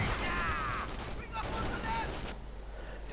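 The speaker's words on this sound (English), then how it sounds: "Riflemen forced away by the MG42." MG42 machine gun fire rattles in sustained bursts in a World War II strategy game, mixed with other battle noise and voice commentary.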